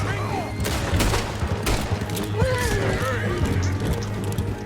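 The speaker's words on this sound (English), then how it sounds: "Shoot them! Now they shoot!" Rapid gunfire in a Red Dead Redemption 2 shootout with riders, sharp shots cracking in quick succession, some close and loud, amid horses and shouting voices.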